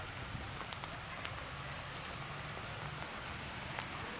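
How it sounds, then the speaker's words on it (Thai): Steady broadband hiss of rain falling at a market on the Thai-Lao border, continuous and fairly even, with faint scattered drops and a low rumble beneath. "ฝนตกมาแล้ว"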